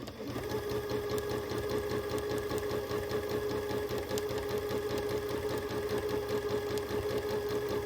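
Domestic sewing machine running steadily through free-motion quilting of a long wavy line, a continuous rapid mechanical stitching rhythm with motor hum, close and fairly loud throughout with no talking.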